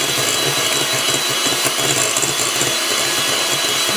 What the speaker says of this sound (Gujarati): એને આપણે ફાઇન રીતે બીટ કરશું આવી રીતે